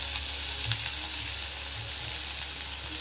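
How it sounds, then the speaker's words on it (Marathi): Green chilies hit hot oil with a steady, dense sizzle, close and loud, holding even throughout with no voices. "यात मी टाकली हिरवी मिरची"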